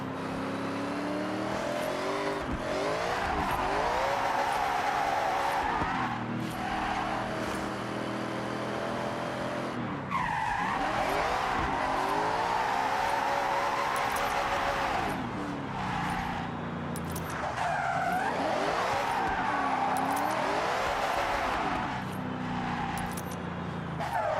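Car in Forza Horizon 6 revving hard and shifting through gears, its engine pitch sweeping up and down repeatedly with tire noise, loud and continuous throughout.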